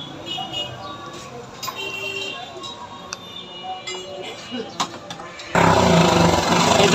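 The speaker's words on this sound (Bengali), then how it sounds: "আর গাড়ির সাউন্ড শোনেন" A faulty Yamaha FZ-S V1 motorcycle engine idles roughly near someone talking, then bursts into a loud, sustained harsh roar for the last couple of seconds.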